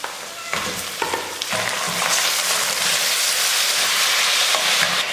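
Chicken hits a pan of browned shallots and fries hard, a dense, loud sizzle with scraping stirs early on that settles into a steady crackling hiss.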